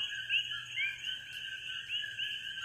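Hawaiian frogs calling at night, a quiet chorus of high, pulsing chirps that swell and fade in repeated bursts over a constant thin whine, with no speech.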